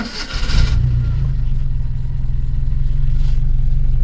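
A used Mitsubishi Colt's engine cranks and catches, then settles into a steady, loud low rumble at a very low idle, with no throttle applied.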